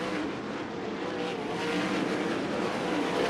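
A USAC sprint car accelerates hard onto the back straightaway of a dirt oval at Central Arizona Raceway, its engine a loud, sustained roar that swells steadily as it powers down the straight.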